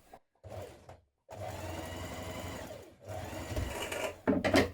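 A sewing machine stitches a dart in a dress, running in steady motor bursts separated by short pauses, close and moderately loud.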